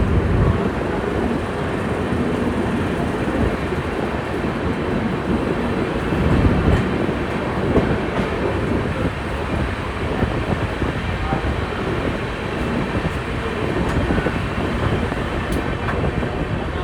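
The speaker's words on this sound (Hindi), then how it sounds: "जैसी ट्रेन वर्धा जंक्शन से निकली" The 12860 Gitanjali SF Express pulling out of Wardha Junction on its Kolkata to Mumbai run, heard from on board as a loud, steady rumble of wheels and carriages with occasional clatter and wind noise.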